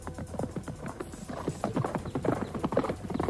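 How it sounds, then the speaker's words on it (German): Horse hooves clip-clopping at a steady riding pace, with a brief whinny, as a rider and a boy mount up and ride toward the hills in a German radio drama; close and fairly loud, no talk over it. "Hawk steigt zu dem Indianerjungen aufs Pferd und reitet mit ihm auf die Anhöhen."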